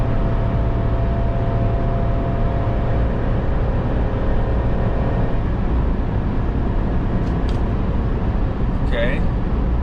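Steady low engine drone and road rumble from a 2024 Chevy Silverado 3500 with a gas L8T V8 and 10-speed Allison, cruising at highway speed while towing, heard from inside the cab with a voice talking over it.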